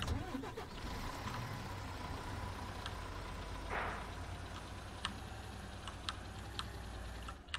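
Cars driven in the farming video game Ranch Simulator, a steady mid-pitched engine drone running throughout with a brief whooshing burst midway and scattered faint clicks and ticks on top.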